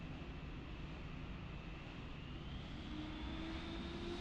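Boeing 737-800 airliner in Lufthansa livery spooling its jet engines up for takeoff in Microsoft Flight Simulator 2020, a steady, loud broadband roar with a rising whine building toward the end.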